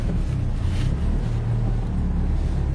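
An Isuzu SUV engine drones steadily and loudly as it climbs a slope off-road at about one-third throttle, a low rumble mixed with wind buffeting the microphone.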